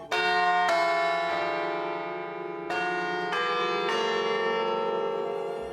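Church bells ringing in the tower of Notre-Dame de Paris, large bells struck several times in succession, each strike blooming into a long, rich, sustained resonance that overlaps the next, loud and close with no talk.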